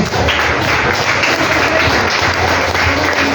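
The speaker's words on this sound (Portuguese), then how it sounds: "Aplaude o Senhor essa noite." Pentecostal church congregation applauding during a sermon, a loud continuous roar of clapping and crowd noise filling the whole stretch with no clear break.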